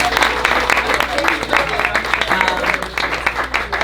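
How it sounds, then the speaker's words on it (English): A full round of audience applause at a fado show for the cooks, volunteers and servers, dense clapping that swells and wavers, with voices and crowd noise mixed in. "one last round of applause for our wonderful cooks and volunteers and servers."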